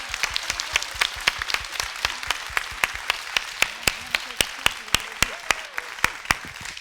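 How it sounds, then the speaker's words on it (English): Audience applause at a leadership event on breaking barriers, heard as a steady run of sharp, evenly spaced claps over a soft bed of crowd noise, fairly close and moderately loud for about seven seconds. "a big hand of applause to our guests and to all of you here"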